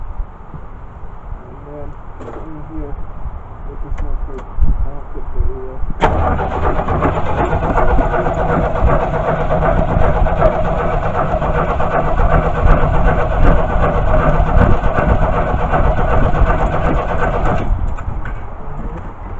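A 1979 Pontiac Firebird engine cranks and catches, then runs loudly and roughly for about ten seconds before cutting off, with birds cooing faintly in the background.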